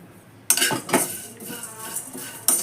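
Coriander seeds roasting slowly in a pan over a low flame, for biryani masala, give sharp dry clinks and rattles in short bursts, with a steady light scraping rustle between them.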